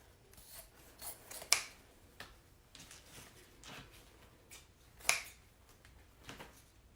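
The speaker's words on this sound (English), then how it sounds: "We can actually trim off some of our excess ribbon" Scissors trimming excess wreath ribbon, with a few soft, scattered snips and rustles and two sharper, louder cuts standing out in an otherwise quiet setting.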